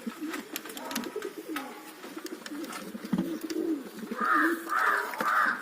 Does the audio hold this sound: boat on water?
no